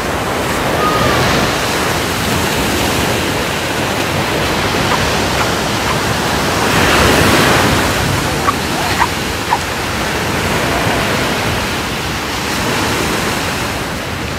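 Ocean waves wash steadily onto a beach in a broad, continuous rushing roar, swelling slightly midway, with wind buffeting the microphone and occasional faint voices in the background.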